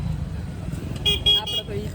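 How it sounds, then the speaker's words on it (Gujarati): Heavy traffic at a crowded fair: a low rumble of engines with a few short, bright horn toots in quick succession, moderately near, while people talk over it. "ટ્રાફિક સર્જાયું જોરદાર"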